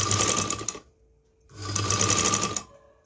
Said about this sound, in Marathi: आता ही शिलाई करून घेते आणि मग पलटी करूया